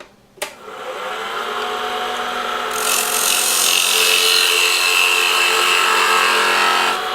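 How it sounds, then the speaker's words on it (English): A spindle gouge cuts across the bottom of a turning wooden bowl, giving a continuous, close, rasping scrape that grows brighter and louder partway through and holds steady to the end. "to finish the bottom of the bowl, I could take my spindle gouge"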